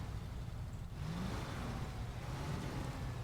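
Steady low engine drone of a truck in low ratio engine braking on a steep descent in the SnowRunner video game, a continuous rumble with a faint rising whine, heard alone at moderate loudness.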